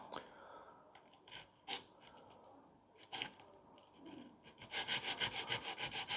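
Alien Archery V2 125g broadhead sharpened with light pressure along its factory bevel, giving quiet scraping strokes in an irregular rhythm that grow into quicker, repeated rasps toward the end, close but faint.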